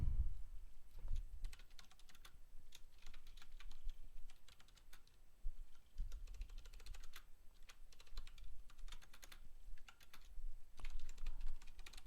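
Fingers type rapidly on a laptop keyboard in irregular bursts of soft, close clicks and taps that run on for several seconds, with no talking.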